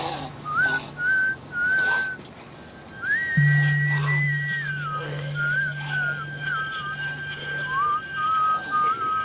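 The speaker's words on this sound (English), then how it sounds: "What turns out to be 53 seconds of non-stop fucking whistling" A person whistles a wandering melody nonstop, clear and close, over a steady low hum in the background.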